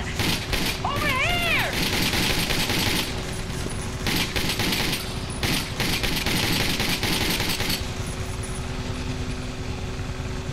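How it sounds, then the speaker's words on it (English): Pistol fire in the shooter Army of Two: The Devil's Cartel, a run of loud, sharp shots crackling in quick bursts amid steady battle noise, with voices talking over the fighting. "We're gonna pistol these guys out."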